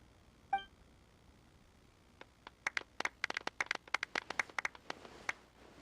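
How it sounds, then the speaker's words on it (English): Scattered applause in Genshin Impact closing an in-game award ceremony, with one short tone first, then a run of crisp, separate claps that thicken briefly and thin out again. "Let's give our champion Kaveh one last big round of applause."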